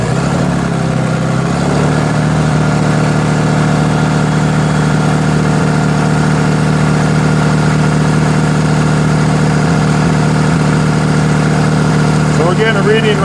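A car engine runs at a steady, droning idle throughout a blow-by test in a repair shop, holding an even hum with no clear rise in revs and a faint voice near the end.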